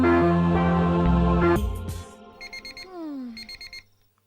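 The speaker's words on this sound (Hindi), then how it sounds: "अलार्म बज रहा है, उठ जाइए" An alarm clock rings loudly and close, a sustained electronic buzz that breaks off into a few short repeated beeps and then stops, with no voices.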